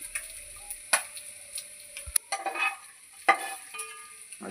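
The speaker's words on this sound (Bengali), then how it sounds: "মাছ ভাজা হয়ে গেছে।" Small Ganges morola fish frying in a pan, with soft sizzling broken by sharp clicks and scrapes as the pieces are stirred and turned, heard close with no talk.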